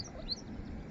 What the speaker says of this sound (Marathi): पक्ष्यांचा किलबिलाट ऐकतो आहे